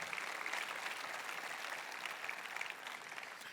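A church congregation applauds during a sermon, a continuous, fairly faint and distant wash of clapping that holds steady for a few seconds.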